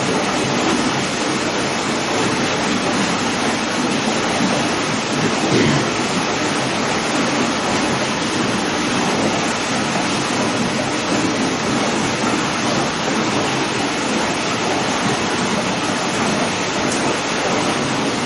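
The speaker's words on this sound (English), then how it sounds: "show you what happens when flow goes over a weir" Water rushes over a weir in a laboratory flume. The roar is loud, continuous and broadband and stays steady throughout, with no voices.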